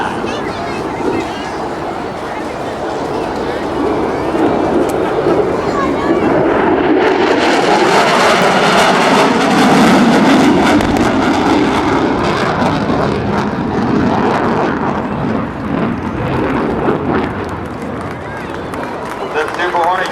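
An F/A-18F Super Hornet jet roars past at an airshow, swelling to a loud, broad rush and then fading, with a crowd and a voice audible underneath.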